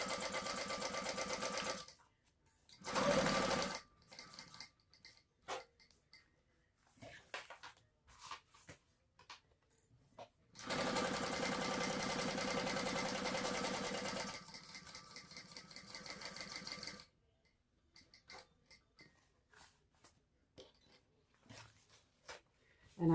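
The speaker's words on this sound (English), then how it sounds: "and then when I get to that point, I will stop and pivot and sew out to the raw edge" Sewing machine stitching the edges of a fabric crossbody bag, running in steady motorized bursts of a few seconds with a long continuous run in the middle, separated by quiet pauses, close and moderately loud.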